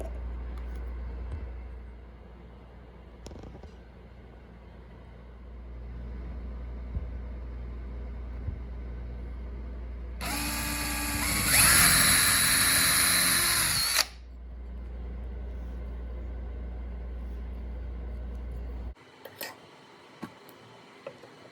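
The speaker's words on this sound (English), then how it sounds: "I went ahead and drilled a little hole up in there." A power drill bores a small hole for hanging an LED shop light, a loud whining burst of about four seconds in the middle of a quiet room with a low hum, followed by faint clicks.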